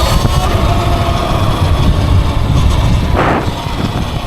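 A Surron electric dirt bike is being ridden, with a loud, rough rumble dominated by wind and motion noise that dips briefly near the end.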